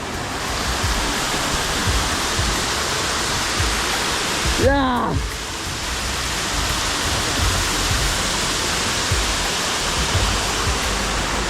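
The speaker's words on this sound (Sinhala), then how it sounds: "මගේ ඉස්සරහ දැන් ලංකා ඇල්ල තියෙනවා" Lanka Ella waterfall at Upper Babarakanda, Sri Lanka's tallest falls, roaring as a dense, steady wash of falling water close by, with a brief call from a person partway through.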